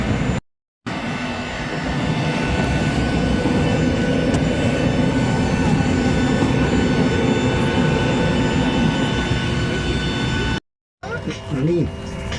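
Inside an airliner cabin during boarding, a loud, steady engine and ventilation roar fills the space with brief dropouts near the start and end, and a voice speaks near the end.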